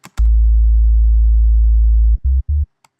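Very low, booming synth sub bass transposed down an octave in Ableton Live sustains a long note, then drops into two short stabs, with faint clicks and ticks at the edges.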